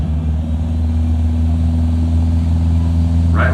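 All-wheel-drive cars idling and rumbling at a drag strip start line, a loud steady low engine drone with a brief rise of revving at the very end.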